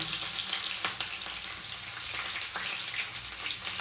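Chopped ginger and garlic frying in oil for a village-style mutton curry, a dense continuous crackling sizzle up close with occasional stirring taps, no voices.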